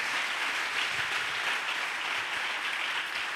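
A church congregation applauds steadily in a dense, continuous wash of clapping hands, loud and sustained throughout with no talk.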